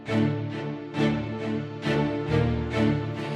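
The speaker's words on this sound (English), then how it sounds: "so our whole string section sounds like this" A full string section plays layered, sustained chords with rhythmic swelling accents roughly twice a second, rich and fairly dry.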